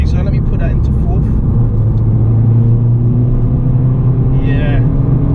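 Turbocharged Ford Fiesta ST EcoBoost with a Stage 1 Revo tune pulling in fourth gear, a steady loud engine drone and road rumble heard from inside the cabin, with no talk.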